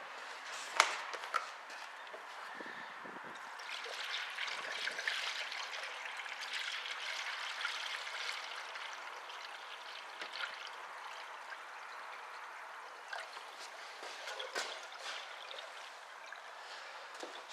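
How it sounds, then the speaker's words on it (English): Antifreeze pours steadily into the radiator of a 1976 Pontiac Firebird Formula in a faint, continuous trickling stream, with a few small knocks and clinks along the way. "Let's pour some antifreeze in."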